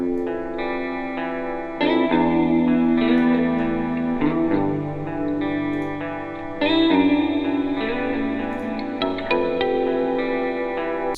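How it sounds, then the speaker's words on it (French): Slow ambient music with sustained guitar-like chords washed in heavy reverb, swelling in several phrases with long tails ringing out between them. "On va la plonger dans la reverb déjà."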